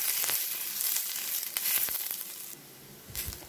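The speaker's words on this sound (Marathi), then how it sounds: "यावर आता किंचितसं तेल टाकायचं. तेल टाकल्यानंतर पद्धतीने दाबून दाबून हे परतून घ्यायचं आता एकत्र सगळं" Onion and green chilli sauté in a little oil while being pressed down, a crackling sizzle broken by scraping, crushing strokes of a utensil, close and bright, thinning out near the end.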